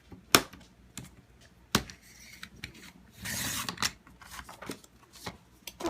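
A paper trimmer's blade slides through a sheet of cardstock cut at six inches for an easel card, giving a few sharp close clicks and a brief rasping swipe amid quiet handling noise.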